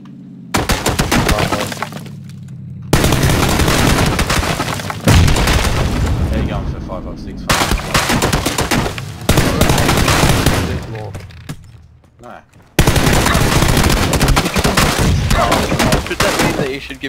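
Gunfire from the battle game PUBG, heard as loud dense bursts of shots that repeat in several volleys of a few seconds each. Short gaps separate the volleys, and speech is mixed in.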